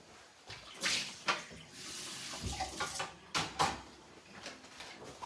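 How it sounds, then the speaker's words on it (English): Water from an espresso machine splashes into a sink in short uneven pours and gushes, with a few clunks, fairly close and moderately quiet. "This is going to get dumped out of the sink."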